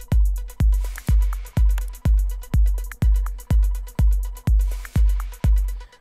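An Omnisphere synth sound in FL Studio, run through EQ and delay, repeats as a steady pulse of about a dozen punchy, booming hits roughly every half second. Bright upper overtones and faint repeating echoes trail behind each strike.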